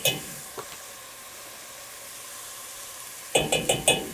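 Food browns in a pan while being cooked for Lebanese chicken and rice, a soft steady sizzle under a few clinks and scrapes at the start and a quick burst of stirring clatter near the end.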